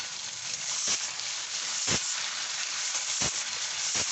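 Two medium chopped onions with a little salt fry in a pan for chicken kosha bhuni khichuri, giving a steady, close sizzle broken by a few brief stirring knocks, with no voices.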